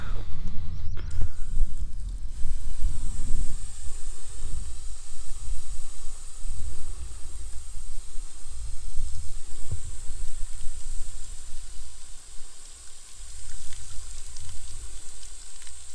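Dense continuous hiss of water spraying and pattering onto a garage roof like heavy rain, loud and steady, with brief low thumps and no speech.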